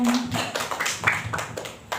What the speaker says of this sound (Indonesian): Tepuk tangan buat Bu Nung.